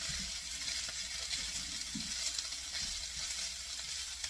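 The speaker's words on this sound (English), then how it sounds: "So, start stirring that all together." Vegetable fried rice sizzles steadily in a big skillet as it is stirred, a constant close hiss with soft scraping under it and no talk.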